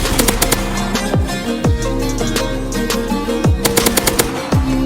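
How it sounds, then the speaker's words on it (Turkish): Gunfire in a roleplay video game comes in loud, rapid automatic bursts and single shots over a constant droning background, with no talking over them. "Lan kim sıktı? Yukarıdan sıkıyorlar."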